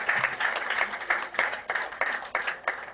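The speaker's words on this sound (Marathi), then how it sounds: "टाळ्या कंजूशी करू नका, जरा जोरदार." Sustained applause from a crowd honoring guests at a Youth Day felicitation ceremony, steady dense clapping throughout with brief swells.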